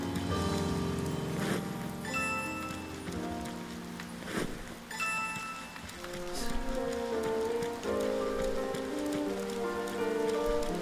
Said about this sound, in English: as it's nighttime and raining